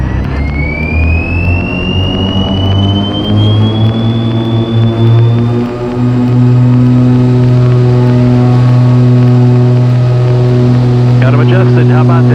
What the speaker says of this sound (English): we'll come to a complete stop and run the engines on up